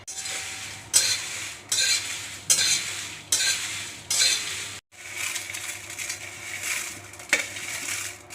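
Spices dry-roasting on a low flame for mango pickle, stirred in a series of regular scraping strokes, each a bright rasp with a short pause between, followed by a longer continuous stretch of stirring with faint sizzle.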